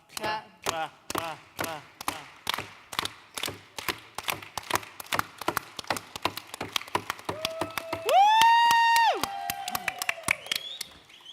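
An audience at a gaming convention's open mic night claps in a steady, even rhythm. About midway a sustained whistle or whoop rises above the beat before the clapping carries on.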